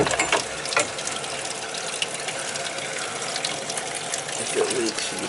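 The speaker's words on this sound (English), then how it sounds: "Get some water flowing down and make sure it don't leak on the other side before we fill it." Water runs steadily from a tap into a repaired bathtub during a leak test, a constant broadband rush with faint clicks and small metallic knocks, a voice speaking briefly underneath.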